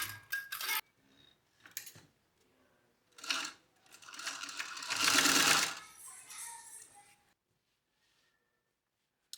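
A sewing machine stitches a zipper seam on a small sunglass case in several bursts of needle clatter, the longest near the middle, with short pauses between runs and quiet at the end.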